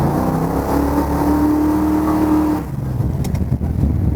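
A 1969 Dodge Charger engine revs loud and steady at about half throttle, spinning its tires. Then the roar drops into rough, gritty noise and rumble.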